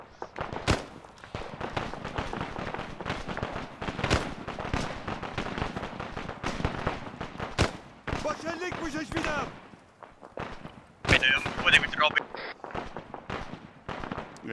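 Gunfire in the military shooter game Arma 3, scattered sharp shots and bursts of varying distance crackling throughout, partly under radio-style talk among players.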